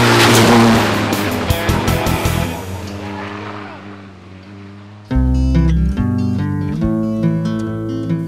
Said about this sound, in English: the cars go really fast